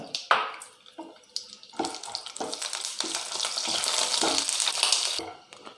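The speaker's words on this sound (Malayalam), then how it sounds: "നമ്മളൊരു ടീസ്പൂൺ നെയ്യ് ചേർത്തിട്ടുണ്ട് ഇനി അതിലേക്ക് നമ്മളൊരു രണ്ട് മൂന്ന് ബദാമും അതുപോലെ തന്നെ രണ്ട് മൂന്ന് കഷ്ണം അണ്ടിപ്പരിപ്പും ഒന്ന് ചേർത്ത് വറുത്തെടുക്കുകയാണ്" Almonds and cashew pieces frying in a teaspoon of ghee for watermelon halwa, a steady close sizzle with stirring scrapes that builds louder through the middle and fades near the end, no talking.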